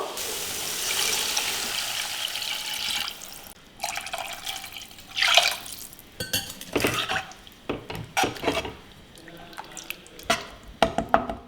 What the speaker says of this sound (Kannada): ಈಗ ಇದಕ್ಕೆ ನೀರು ಹಾಕ್ಕೊಂಡ್ಬಿಡೋಣ